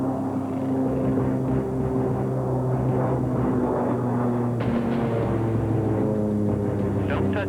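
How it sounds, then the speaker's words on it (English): Light aircraft droning steadily with a propeller engine hum during an emergency belly landing approach, loud and continuous, with a few brief bursts of rattling noise near the end. "His only option is a belly flop landing."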